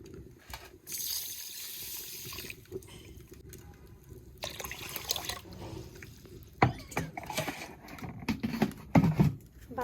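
Broken rice grains are washed in water by hand, with close sloshing, trickling and splashing in irregular bursts, some louder splashes and clatters toward the end.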